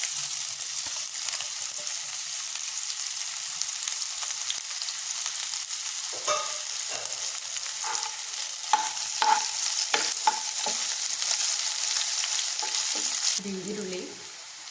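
Finely chopped onions fry with mustard seeds in hot oil for a homemade egg curry, a loud continuous sizzle joined by scraping spatula strokes and clinks against the pan, with no talking.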